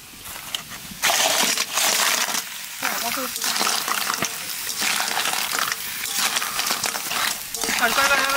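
Big crab pieces hitting onions frying in a pan, a loud hiss and crackle of sizzling that bursts in after a second and keeps up steadily, with stirring, occasional clatter and a voice talking over it.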